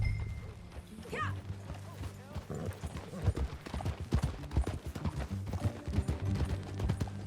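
Horse hooves clip-clop at a riding pace in the open world of Red Dead Redemption 2, a rhythmic thudding gait under low ambient rumble and music, with a brief voice or whinny-like sound early on.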